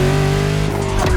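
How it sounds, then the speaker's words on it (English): A luxury hypercar engine in the racing video game The Crew Motorfest holds a steady, loud tonal whine, then shifts pitch briefly near the end, heard alone without talk. "A car born from the passion of a creator who dreamed of building his own luxury hypercar with 4-figure horsepower"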